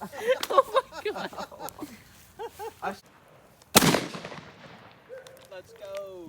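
A single 16 gauge shotgun blast fires at close range, a sharp broadband crack with a short decaying tail, after excited voices talk and exclaim before it.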